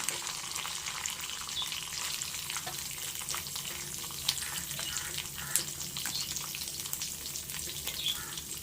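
Chopped carrots and beans fry in a hot pan for poha, a steady close sizzle that holds throughout with faint stirring scrapes.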